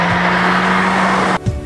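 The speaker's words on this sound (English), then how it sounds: "In this mode, it is brimming and gurgling with power and is eager to nosedive into the next corner." A Mercedes B-Class family car in sports mode revs with a steady, loud, close engine hum that cuts off abruptly near the end, followed by a brief low thump.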